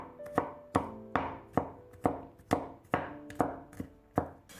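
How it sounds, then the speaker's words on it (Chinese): A knife chops a handful of garlic on a board, slicing it and then mincing it, with about a dozen crisp, evenly spaced chops close by and no voice. "一把大蒜先切成薄片，再改刀切成蒜末。"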